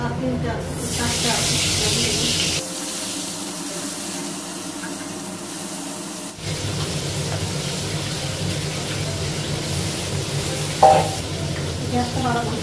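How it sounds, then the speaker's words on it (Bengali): Fish frying in a pan on a gas stove gives off a steady, loud, broadband sizzle and hiss, briefly softening in the middle and then resuming strongly, with a short sharp clatter near the end. "গ্যাসটা কমিয়ে দিয়েছি, মাছগুলো ভাজা হয়ে গেছে।"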